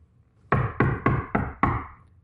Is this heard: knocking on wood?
yes